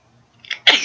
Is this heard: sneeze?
yes